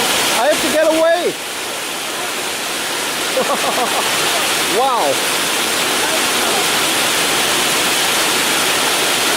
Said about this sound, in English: look, it's hailing. These are large ice splinters.